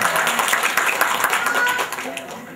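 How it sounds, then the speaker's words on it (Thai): Guests clap together at a Thai wedding ceremony, a quick burst of close, dense hand claps that tapers off, with a voice talking over it. "ปรบมือหน่อยปรบมือหน่อย"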